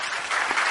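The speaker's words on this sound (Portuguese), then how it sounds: "eu queria encerrar com uma salva de palmas aos participantes" A brief burst of audience applause for debate participants at an evening event at a football museum, steady clapping heard alone.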